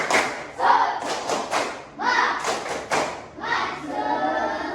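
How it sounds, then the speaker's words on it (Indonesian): A sixth-grade elementary class claps the 'tepuk semangat' spirit rhythm, crisp grouped bursts of hand claps in a patterned beat with short pauses between phrases. "coba tepuk semangat"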